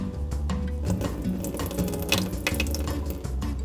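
Water runs and splashes while a cup is rinsed out in a home kitchen during iced milk jelly coffee making, a steady close stream with clattering of the cup.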